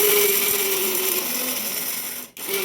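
A mixer grinder runs steadily, coarsely grinding spice ingredients for a drumstick palya, with a continuous whirring motor drone that cuts out briefly near the end and then starts up again.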